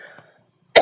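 A single short, sharp cough close to the mic, following a faint murmur and a brief silence.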